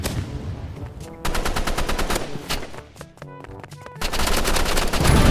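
Assault rifle gunfire in the Roblox shooter Rivals, bursts of rapid automatic shots in several loud clusters with brief pauses between them, dense and close with no talking.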